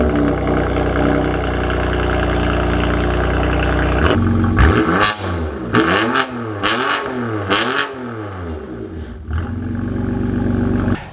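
Ferrari Red BMW F80 M3 with EPA-compliant catalytic converters, idling with a low hum before a sharp start-up, then a series of about five quick rising and falling revs, loud and close, settling back into a steady idle.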